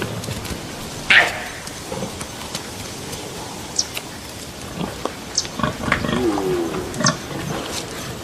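Wild pigs grunt and squeal at a crowded waterhole where deer chase them off, scattered snorts and calls of varying loudness over rustling ambient noise.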